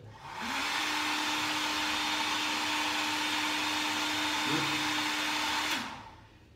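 A hair dryer switches on and runs with a steady whooshing whine and hum for several seconds, then powers down.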